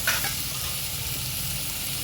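Tomatoes sauté with onion, ginger, garlic and curry leaves in a pan for goat intestine and lung curry, making a loud, continuous close sizzle and hiss with a brief stirring scrape at the start.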